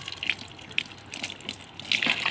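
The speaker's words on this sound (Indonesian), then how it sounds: "Kita siram bagi nampak dia punya tanah tu basah, lembap kan." Water is poured onto the soil of a potted lime tree cutting, giving soft irregular splashes and trickles that grow into a fuller gush near the end, close by and fairly quiet.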